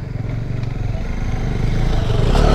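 A motorcycle rides over a dusty, uneven dirt road near Almora, engine rumbling steadily and rising slightly, with wind buffeting and faint clatter from the rough surface.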